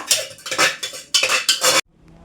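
A metal spoon stirs egg curry masala in a pot after coconut oil is added, scraping and clanking in quick uneven strokes close up, then stops abruptly into near silence.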